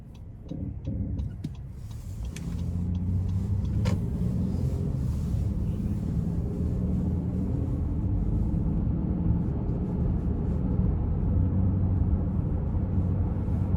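A 2017 Honda Ridgeline RTL pickup accelerates in Econ mode, heard from inside the cab: a few clicks give way to a steady, building engine and road rumble that holds loud and even, without talking.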